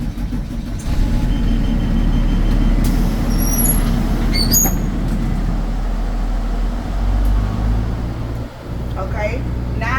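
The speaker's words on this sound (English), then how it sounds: "Now I can safely start my bus." School bus engine cranking and then idling, a loud low diesel rumble that runs steadily close by, with brief higher whines and squeaks and a dip near the end.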